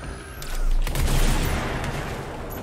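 Explosions in the video game Control: a deep booming burst swells and rolls out with crackling debris, loud and close, lingering for a couple of seconds without talk.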